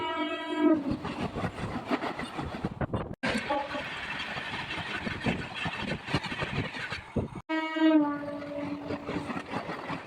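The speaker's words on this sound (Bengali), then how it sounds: "তিন নম্বর লাইন দিয়ে ছুটে বেরিয়ে যাচ্ছে লালগোলা ইএমইউ ইয়ে লোকাল ট্রেনটি" Lalgola EMU local train rushing past on line three, a loud close roar of wheels and clattering carriages with blaring horn blasts at the start and end, wagons passing continuously in between.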